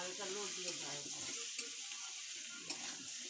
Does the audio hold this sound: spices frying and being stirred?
yes